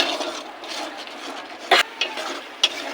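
Turmeric, chili powder and salt stir-fried in a pan for a mustard-paste fish curry: a steady, close oily sizzle with scraping, broken by three sharp spatula clacks against the pan near the end.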